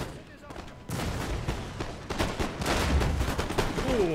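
Massed musket volleys crackle and boom in the Empire Total War game as line infantry fire on cavalry, a dense continuous barrage that thickens partway through, with a voice briefly audible over the din.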